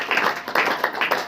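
A church congregation claps in quick, steady bursts during a worship service, bright and close, with no voices over the clapping.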